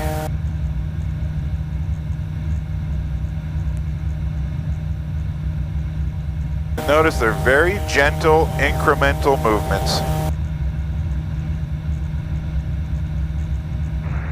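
Cessna 177 light aircraft engine droning steadily inside the cabin during an introductory flight lesson out of Midland/Huronia Airport, a constant loud low hum running throughout, with a voice talking over it midway.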